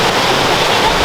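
A small waterfall in the North Carolina woods rushes in a steady broadband roar, close and loud, with no break during the short moment.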